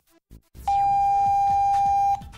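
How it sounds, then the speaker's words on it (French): An alarm keypad, just fitted with four batteries, gives one steady, loud electronic beep lasting about a second and a half, preceded by a few soft handling clicks. "Le clavier émet un bip."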